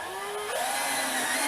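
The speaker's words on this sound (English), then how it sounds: "So, put a couple of screws in, and for some reason I like to stagger them." A power driver whines steadily as screws go into rough-cut lumber boards on a cabin's interior wall, its pitch rising slightly as the screw drives in, close and continuous.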